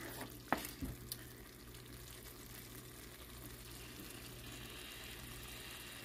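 Southern-style fried corn with butter, stirred in a pan over medium-low heat. A soft, even frying hiss runs throughout, with a couple of brief spoon knocks near the start over a low background hum.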